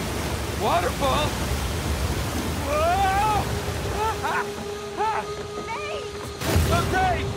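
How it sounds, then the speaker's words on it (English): A waterfall in the video game Uncharted 4 roars as a constant, wide rushing wash, with characters shouting over it. "Waterfall."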